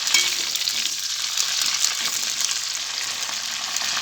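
Green chillies frying in hot oil with a steady, close crackling sizzle and a few stirring scrapes, continuous throughout without any talk.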